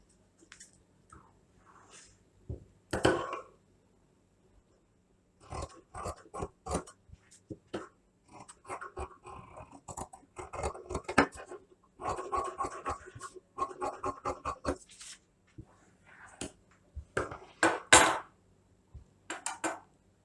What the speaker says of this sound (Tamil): இப்போ வந்து இதை கட் பண்ணிக்கலாம்.